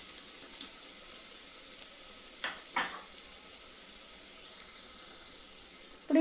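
Sliced onions frying in oil in a pan for egg biryani, a soft continuous sizzle with a couple of brief stirring scrapes partway through and a sharper clatter at the very end.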